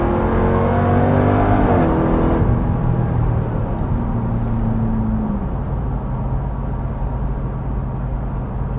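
A 2021 Dodge Durango SRT Hellcat's engine revs hard while driving, climbing in pitch through gears with a loud roar, then easing into a steady, lower cruising drone with road noise.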